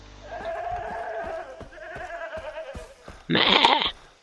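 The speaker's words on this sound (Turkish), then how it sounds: "Lan ne oluyor lan böyle koyun da mı var?" Several sheep bleat in a wavering chorus in the video game Far Cry 3, with a louder, harsher burst of bleating near the end.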